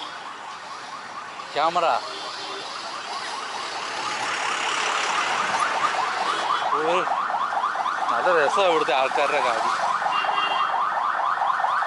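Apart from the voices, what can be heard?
ambulance siren approaching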